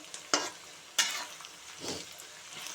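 Onion masala frying in well-heated oil while being stirred, with a few sharp scraping strokes of the spoon against the pan over a soft, steady sizzle; close and fairly quiet, with no talking.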